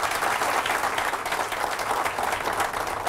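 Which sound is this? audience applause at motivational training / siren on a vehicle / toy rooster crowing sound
audience applause at motivational training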